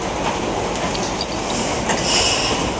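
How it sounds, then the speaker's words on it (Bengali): Heavy rain falling steadily at a village home, a dense continuous hiss that fills the whole stretch without a break, loud and close, with no voices over it. "আর বৃষ্টি তো পড়তেই আছে"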